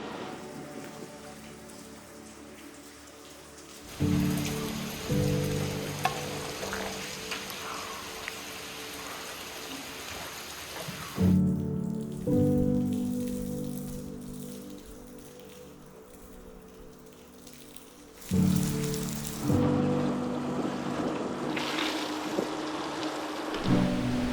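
Rain falls steadily at a lakeside abandoned hotel, a continuous hiss of drops on surfaces that swells louder in several bursts and stays dense throughout.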